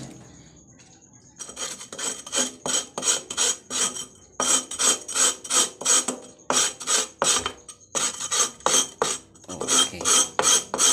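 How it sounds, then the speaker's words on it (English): The sharp edges of a cut glass bottle are worked with wet sandpaper, a close, rhythmic gritty scrape in quick repeated strokes with brief pauses. "now we need to sand the sharp edges using this sandpaper."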